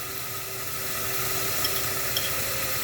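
Turmeric goes into hot oil for a chole dish, giving a steady close sizzle and hiss that swells slightly midway and continues without talk.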